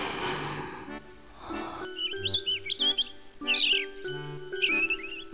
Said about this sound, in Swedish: Hör fåglarna.